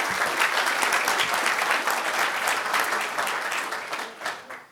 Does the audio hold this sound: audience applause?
yes